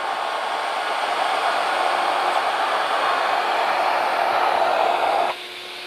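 Router with a sharp bit cutting deep around the outside of a wooden tenon, taking it down to one inch; a steady loud whine runs alone for about five seconds, then drops abruptly to a quieter hum.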